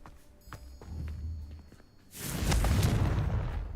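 The Confringo fire spell is cast in Hogwarts Legacy: soft footsteps and thuds come first, then a sudden loud, broad blast that roars and crackles for over a second.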